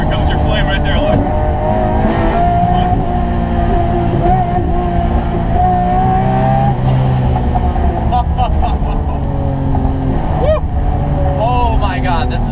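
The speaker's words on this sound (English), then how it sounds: "There is nothing louder than this car." Very loud Lamborghini with its catalytic converters removed, the engine droning and revving close by in shifting waves with crackling bursts near the end, while voices speak over the roar.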